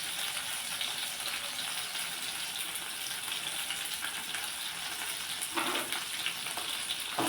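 A single tomato fries in oil for beetroot chutney, giving a continuous hissing sizzle at moderate loudness with a brief louder spatter near the end and no voices.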